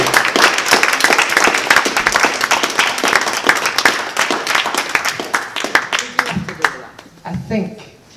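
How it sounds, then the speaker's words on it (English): Hearty applause rises from the audience at the Leeds Poverty Truth Commission launch, with crisp, closely packed claps that thin into scattered hand claps before a voice starts talking near the end. "a huge round of applause for this incredible group of people"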